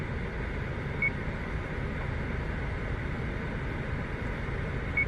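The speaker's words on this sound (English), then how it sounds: "As well as give a little beep." A 2020 Subaru Crosstrek gives a short warning beep when an assist function is turned off, a faint single chirp heard twice over a steady low cabin hum.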